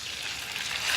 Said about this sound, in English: That sizzling sound is the sound of success in your pan